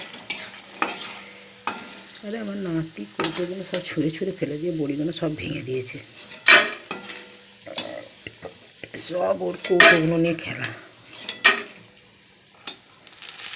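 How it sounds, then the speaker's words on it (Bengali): Sun-dried lentil dumplings (bori) sizzle and crackle as they fry in a wok, stirred with scraping utensil strokes, while someone talks over the cooking throughout. "লাল লাল করে ভেজে নিই"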